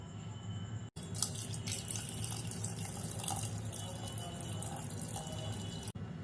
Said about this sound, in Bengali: প্রেসার কুকারে ডালটা দেওয়ার পর জলটা পরিমাণ মতো দিতে হবে, যেন ডালটা ডুবে থাকে